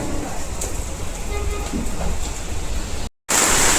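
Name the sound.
heavy rain falling in Pune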